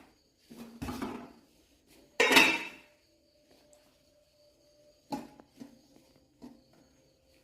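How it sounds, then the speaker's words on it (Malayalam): Noolappam rolls, steamed string-hopper rolls, set down into a pan, giving a few separate clinks and knocks of metal and cookware spaced apart, with one louder scraping clatter and quieter taps afterward. "ഇനി നമുക്കിത് ഈ പാനിലേക്ക് വെച്ച് കൊടുക്കാം."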